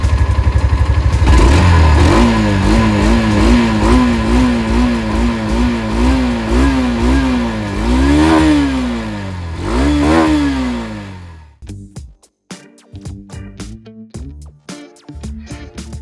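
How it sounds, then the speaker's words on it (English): A Hero Xtreme 160R Stealth Edition BS6 2022 motorcycle starts, then its engine and exhaust idle and rev in several loud, close swells before it cuts off, leaving scattered clicks and knocks. "Let's turn on the vehicle and listen the exhaust sound."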